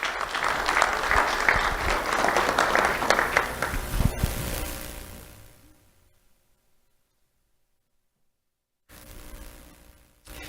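Audience applause at a sheriff's office awards ceremony honoring a middle school student, loud and sustained for about five seconds before fading to silence, with a brief burst of room noise near the end.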